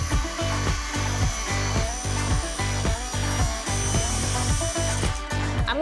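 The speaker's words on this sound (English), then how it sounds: "I'm gonna freehand this cut because this doesn't have to be perfect" A freehand saw cuts through a wooden panel for a bed frame in rapid, even strokes, near and loud, with no pause from start to finish.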